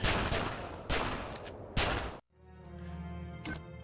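Gunfire in the Batman Begins video game on Xbox, three loud bursts of sustained shooting followed by a quieter humming stretch with one faint distant shot.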